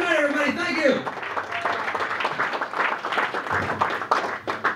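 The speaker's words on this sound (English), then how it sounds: "Another round of applause for Tom Myers, everybody." An audience at a live comedy show claps for a comedian, the applause starting after a brief voice and holding steady under an announcer's talk.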